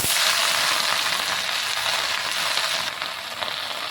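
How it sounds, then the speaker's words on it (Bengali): Jute leaves dropped into a hot wok, a loud dense hiss of sizzling that starts at once and eases slightly after a few seconds, close and alone. "কড়াইটা সামান্য গরম করে নিয়েছি, সেইখানে আমি সরাসরি শাকগুলোকে দিই"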